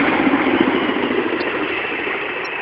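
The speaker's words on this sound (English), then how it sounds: "The train." A passing train heard as a loud, steady mechanical rumble and roar that holds at high level and then eases slightly, with no voices over it.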